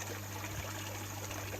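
Slowed water trickling in a thin, steady stream during a cold snap, a faint continuous dribble with no talking.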